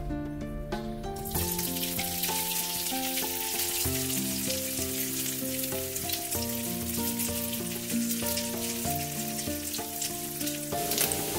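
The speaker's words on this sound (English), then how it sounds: "First, you want to cook your spam." Spam slices fry in a pan with a steady, close crackling sizzle, heard under loud background music throughout.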